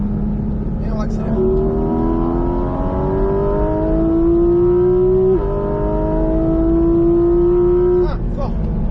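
Porsche GT4 RS accelerating hard on a race circuit, engine note climbing steadily through the gears with a brief shift break, loud and close from inside the car.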